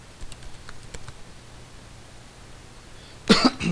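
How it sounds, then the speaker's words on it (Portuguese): Keyboard taps sound faintly near the start, then quiet. A single short, loud cough breaks out near the end. "Desculpa pela tosse."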